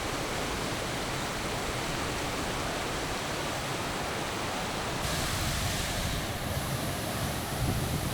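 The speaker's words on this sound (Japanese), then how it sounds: "これがヌンヌン滝です。" Nungnung waterfall in Bali, in the rainy season, gives a constant loud, dense roar of falling water close by. The broad rushing wash swells slightly partway through, and no one speaks over it.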